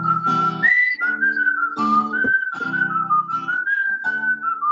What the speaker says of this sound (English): I'm playing whistle of a tune, and let's see if you can identify the tune.